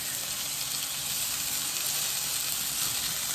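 A patted-dry sirloin steak, salted and peppered, sears in a hot pan with a loud, dense, steady sizzle heard close up and with no voices.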